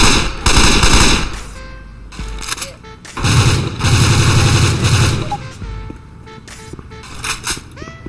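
Rapid bursts of gunfire and booming shots from various guns ring out in Left 4 Dead 2, loud and close, in clustered volleys with short gaps between.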